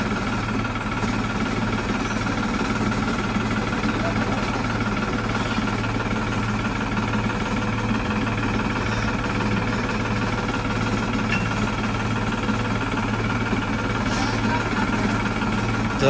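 Farmtrac 600 tractor diesel engine running steadily during an outdoor pulling test, a continuous loud rumbling drone with no breaks.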